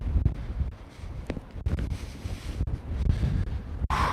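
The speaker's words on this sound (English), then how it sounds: "Man, it is windy as heck." Steady wind buffets the microphone outdoors, a loud, continuous low rumble that surges and dips with gusts for the whole stretch, with one brief dropout near the end and no speech.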